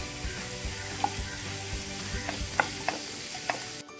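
Chicken filling with salt is stirred in a pan, giving a steady soft sizzle with repeated light clinks and scrapes of the spoon, close and moderately quiet.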